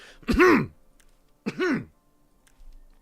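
Someone clears their throat or coughs twice, two short, close, voiced bursts about a second apart against an otherwise quiet background.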